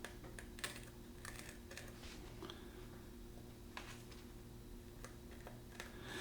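Scissors snipping the backing off a sock puppet, a run of quick, close, irregular clicks and small cuts over a low steady hum, with no talk.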